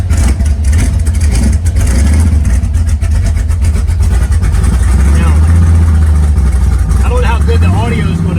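A 1966 Mustang GT engine fitted with two Edelbrock carburetors cranks over, catches and settles into a loud, close, somewhat rough running rumble that continues throughout.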